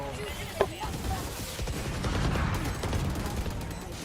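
Gunfire in the video game Resident Evil 4 Remake, a sharp shot near the start followed by a busy stretch of rattling firing and combat noise with game effects mixed in.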